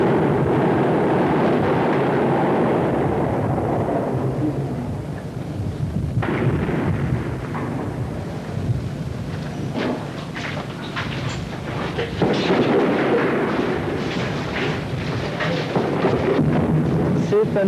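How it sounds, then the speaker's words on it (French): 240 mm artillery shells explode during the Hundred Days' War in Achrafieh, Beirut, heard as a continuous heavy rumble of blasts and booms that swells and rolls without pause. "C'est un obus de 240 mm, un obus qui est en train d'être utilisé pour la première fois, et un obus des plus meurtriers"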